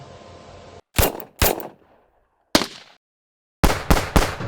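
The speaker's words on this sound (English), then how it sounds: "I'm gonna find some gunshot sounds." Several gunshot samples fired one after another as drum-fill material: a few sharp, loud cracks with short decaying tails, separated by silent gaps, ending in a rapid burst of three shots.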